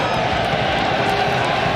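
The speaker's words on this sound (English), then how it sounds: "And the crowd is crazy in Foxborough." Dense, steady roar of a large stadium crowd at a United States versus Jamaica 2001 World Cup qualifier soccer match in Foxborough, a continuous loud wash of cheering with no gaps.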